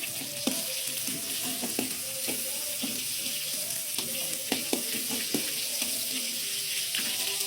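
Tomatoes sizzle and fry in a pan at a home stove, a steady soft crackle broken by repeated light scraping and stirring clicks, with no talking.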